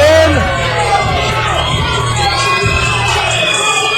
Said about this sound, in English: And a roar of the crowd as his partner makes his way in.